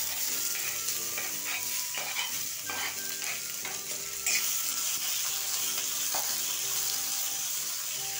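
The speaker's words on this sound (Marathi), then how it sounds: "तेल खूपच गरम झालं आहे माझ्याकडून, त्याच्यामुळे आपण लगेचच कांदा टाकून देऊ परतण्यासाठी।" Chopped onion dropped into very hot oil already tempered with cumin, curry leaves and chillies in a pan, a loud dense sizzle with stirring clatter throughout, close by and without speech.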